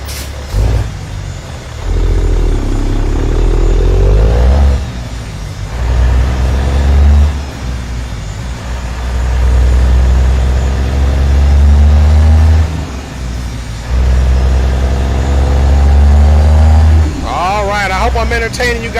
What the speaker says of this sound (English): You can hear those engines.